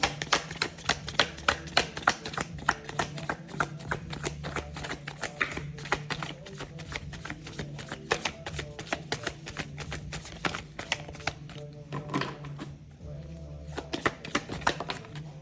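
Tarot cards shuffled and handled near the mic in a dense run of crisp, rapid riffling clicks and slaps, with brief pauses and restarts and occasional soft talking under it.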